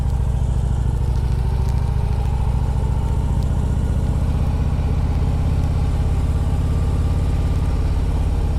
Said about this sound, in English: we got to do a U-turn here and a 400 kilo bike